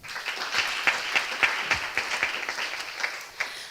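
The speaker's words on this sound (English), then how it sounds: "So round of applause for Mark yet again." A conference room full of people at a pediatric innovation event in Riga applauding, steady dense clapping with a few sharper claps standing out, sustained throughout.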